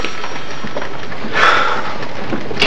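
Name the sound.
rain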